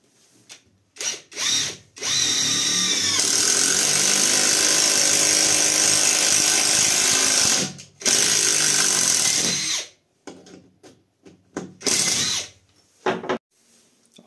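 A Catpower 4226 cordless impact driver drives a trapezoidal wood screw, with short trigger blips and then a long loud whirring, hammering run of several seconds, a brief pause, more driving, and a few final short bursts.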